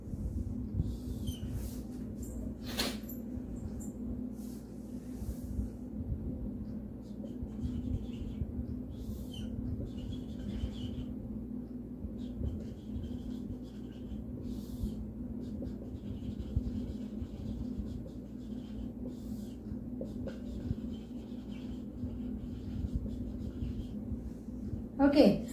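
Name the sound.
drawing a place value grid by hand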